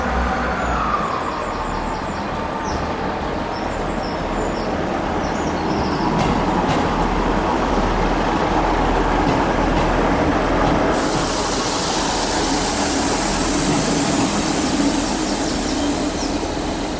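A train idles and rumbles at a platform in Edinburgh station, a loud steady wash of engine and hiss filling the busy hall, with a brighter high-pitched whine joining partway through.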